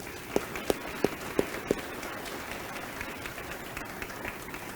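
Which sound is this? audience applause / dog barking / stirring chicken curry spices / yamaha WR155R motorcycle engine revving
audience applause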